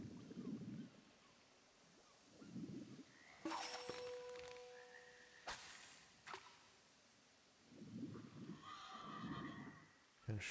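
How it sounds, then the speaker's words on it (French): Horse in the video game Wartales, giving several whinnies spread across the span, with sharp clicks and clatter between them, all fairly faint over a soft background wash. "Un cheval."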